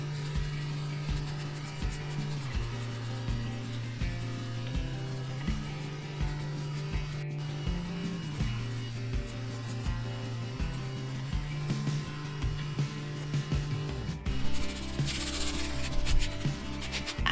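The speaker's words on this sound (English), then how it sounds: "I'm just using a sandpaper disc and a sanding pad" Rhythmic rubbing of a sandpaper disc on a sanding pad against a plywood edge, repeated back-and-forth strokes under a steady low hum, ending with louder, rougher scraping.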